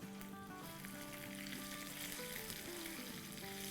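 Green chillies frying in a besan mixture on a stove at medium-high heat, a dense, loud, continuous sizzle with faint stirring underneath and no talking.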